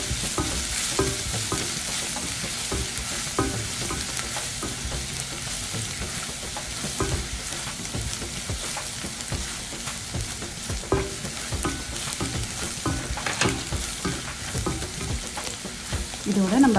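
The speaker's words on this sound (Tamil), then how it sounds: "பூண்டை சேர்த்துட்டு நல்லா இது வந்து கோல்டன் ஆகிற வரைக்கும் நல்லா வறுத்துக்குவோம்." Minced garlic frying in oil until golden for a spicy momo chutney, a steady close sizzle running the whole way with repeated scraping stirs and clicks, no talking.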